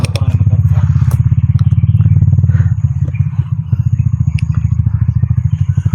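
A motorcycle engine idles close by with a steady, throbbing putter that holds on without pause, with faint voices and a few clatters in the background.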